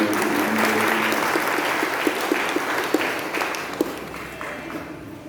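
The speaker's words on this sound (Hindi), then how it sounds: "एक बार जोरदार तालियां।" Loud applause from a spiritual gathering's audience, a dense wash of clapping with a few sharper individual claps standing out as it gradually eases over five seconds.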